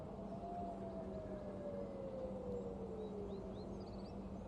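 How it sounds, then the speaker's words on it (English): An air raid siren sounding over the city of Haifa during a missile alert, a single distant wailing tone slowly falling in pitch over a constant low hum, faint and alone with no talk. "Okay, so the sirens are going off."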